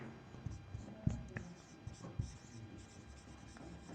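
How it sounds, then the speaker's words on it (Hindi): Chalk or marker scratches across a board in short strokes while a maths problem is worked out, a soft scraping under intermittent speech from the person writing. "तो हम लिखेंगे यहाँ पे"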